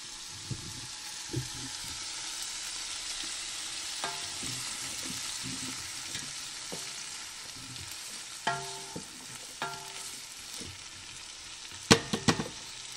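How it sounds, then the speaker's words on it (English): Onions and garlic softening in a pot for home-canned baked beans, a quiet, low sizzle with scattered utensil knocks and scrapes, a cluster of louder clanks toward the end. "we'll get the onions and the garlic going"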